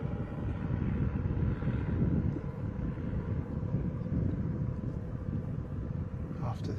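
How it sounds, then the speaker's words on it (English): Ryanair airliner arriving at Bristol Airport, a steady broadband engine roar with wind buffeting holding at a constant level throughout, a faint voice underneath. "Ryanair is your next arrival now."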